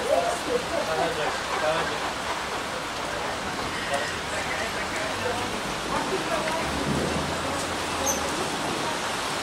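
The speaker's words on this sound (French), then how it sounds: "Sur 15 jours, c'est la première fois qu'il pleut." Steady rain in Bulgaria hisses continuously, a dense wash of falling water with no clear pauses, moderately loud.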